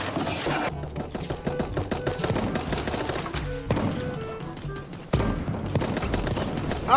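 Rapid shotgun blasts in the cartoon battle royale game Super Animal Royale, a string of sharp, loud, close shots firing in quick irregular bursts with brief pauses, nearly alone with little talk.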